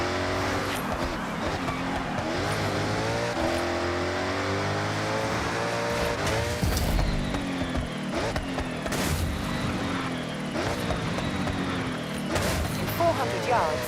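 A Hoonigan Ford RS200 rally car driven in the video game Forza Horizon 6. The engine roars steadily with rising and falling revs, tire squeal and skids, and a voice is present at times.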